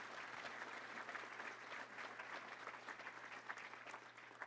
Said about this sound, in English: Let's give a round of applause to Simmons Bank and all of our great sponsors.